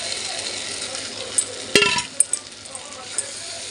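Potatoes and pointed gourd are stir-fried in spiced oil in a wok, with a soft, steady sizzle broken by a few sharp clinks and scrapes of a metal spatula against the pan.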